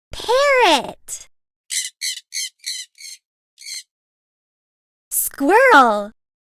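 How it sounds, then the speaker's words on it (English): A parrot squawks loudly up close, with a series of short raspy chirps in between and a longer call at the end, separated by silence. "Parrot."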